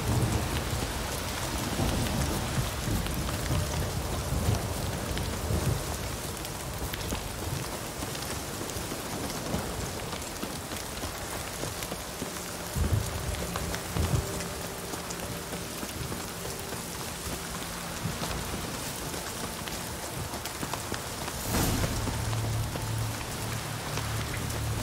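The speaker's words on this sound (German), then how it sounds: "Sturm, verdammt." Steady heavy rain pours throughout a stormy scene in The Witcher 3, a dense continuous hiss with low rumbling thunder rolling beneath it and a sharper crack near the end, no voices.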